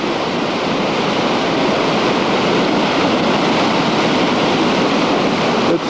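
The flooding Ventura River surges below a levee near San Antonio Creek, a loud, constant broadband roar of rushing water with no pauses, mixed with wind buffeting.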